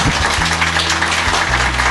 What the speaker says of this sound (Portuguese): Gente, uma salva de palmas.